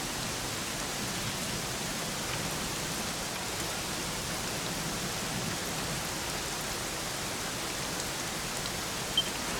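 Steady rain falls in a video game as a dense, even hiss of drops that stays constant throughout, fairly loud, with no voices.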